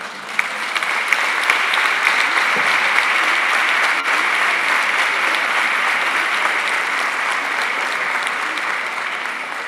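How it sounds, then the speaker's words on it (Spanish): Dense, steady applause from a large audience at a provincial education congress in Neuquén, filling the space continuously for nearly ten seconds with no voices on top. "aplauso para ustedes"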